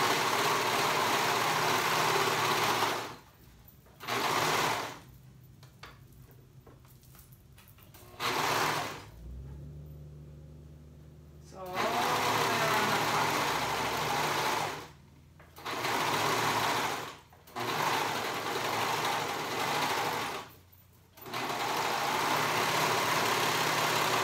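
A sewing machine runs the outer seam of paper bag pants in long, steady bursts of loud whirring, broken by several short pauses and one longer stop before stitching resumes.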